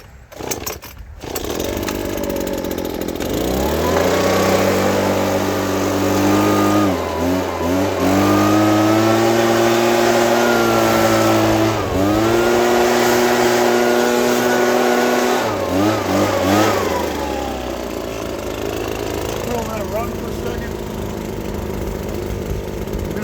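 A gas leaf blower engine starts after a few pulls and runs loud and close. It revs up and down in repeated surges, then settles to a lower idle.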